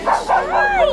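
A puppy lets out a few close, high yips and whimpering barks, loud and right by the listener, with a person talking softly nearby.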